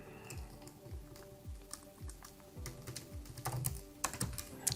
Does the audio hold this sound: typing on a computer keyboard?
yes